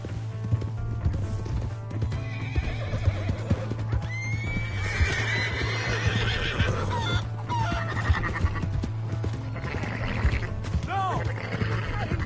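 A horse whinnies and snorts over clopping hooves in a PS4 video game, with other animal calls and busy game-like background sound throughout.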